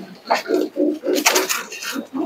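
A Pakistani pigeon, a tournament flying breed, coos close by in a steady train of low, throbbing pulses, each swelling and fading about twice a second, with no talk.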